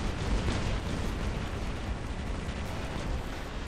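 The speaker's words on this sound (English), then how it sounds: "Oh, that guy just blew himself up." An enemy robot blowing itself up in the War Robots video game, a loud, sustained rumbling explosion roar that fills the whole moment without a break.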